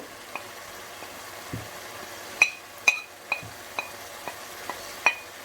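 Kashmiri and regular chili powder fry in hot oil for a thikkadi recipe, a soft steady sizzle broken by sharp, regular metallic clinks and scrapes of a spoon stirring the pan, close up with no voices.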